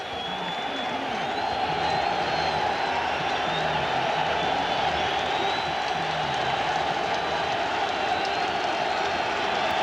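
Steady roar of a large football stadium crowd during a 1993 NFL game between Miami and New England, a continuous dense wash of noise with scattered cheers, heard alone at constant loudness.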